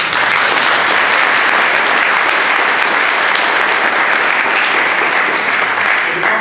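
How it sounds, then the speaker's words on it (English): A large conference audience applauds loudly and continuously at a presidents' welcome session, a dense, even wash of many hands clapping that holds steady without pause for the full stretch. "So please give him a round of applause."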